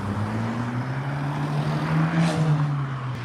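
Traffic on an evening road, a steady engine drone of a passing vehicle with a slowly shifting pitch, moderately loud and fairly near, no voices.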